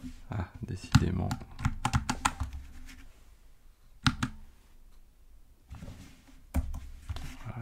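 Bursts of rapid clicky keystrokes on a computer keyboard come in clusters separated by pauses, close and distinct, while someone speaks French between and over the typing.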